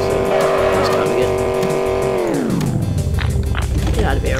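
In the Enviro-Bear 2000 video game, a car engine whines and tires squeal while reversing, the pitch sliding sharply downward after about two seconds into a low rumble, loud and continuous.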